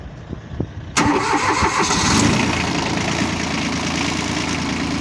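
A small Japanese tractor engine with low hours cranks and catches after a second of quiet, then settles into a steady, close, busy idle that runs on without talk.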